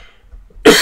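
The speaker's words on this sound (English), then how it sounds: "I started coughing 2 weeks after having COVID." A person still coughing two weeks after COVID lets out a single sharp, loud cough near the end, following a moment of near silence.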